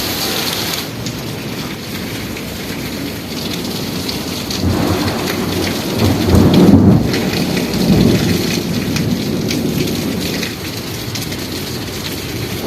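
Steady heavy rain pours throughout while a low rumble of thunder swells in the middle and fades, loud and enveloping.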